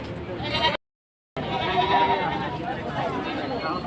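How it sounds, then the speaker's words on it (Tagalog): Goats bleat in a crowded Batangas livestock market amid loud, busy background noise and people talking, with a brief dropout of silence near the start. "Kambing Batangas"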